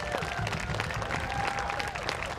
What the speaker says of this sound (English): So round of applause for Kieran.